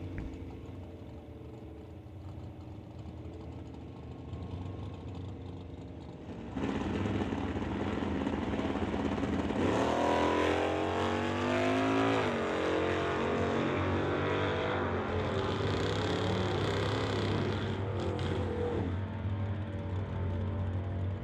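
A Chevelle and a Bel Air launch side by side at an NHRA drag strip, V8 engines idling low before erupting into a loud, sustained roar that sweeps upward and recedes toward the far end.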